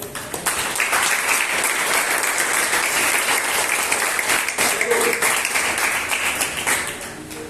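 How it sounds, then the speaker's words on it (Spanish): Sustained applause from a church congregation during a sermon on the crucifixion, a dense wash of clapping that swells and holds for several seconds, with a voice briefly mixed in. "Hay un aplauso que vivir ahí"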